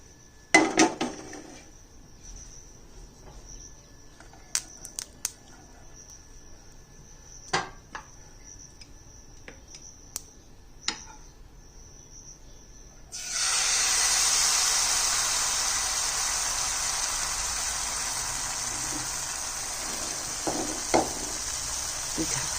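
Refined oil in a pan bursts into a steady hiss as food hits it, the sizzle rising abruptly after quiet kitchen clinks and small knocks and continuing loud and even to the end.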